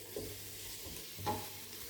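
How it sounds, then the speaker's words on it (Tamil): Tomato, mint and coriander leaves stir-fried in ghee for a paneer pulao give a quiet, brief sizzle with a couple of soft spoon scrapes, and no voices. "சேர்த்து நல்லா வதக்கி விட்டுக்கோங்க."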